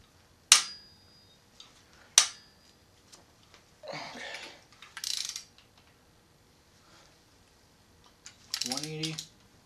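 Ratchet wrench turning cylinder head bolts on a rally car engine in a home garage, heard as a few short clicking bursts with pauses between them, close and fairly clear.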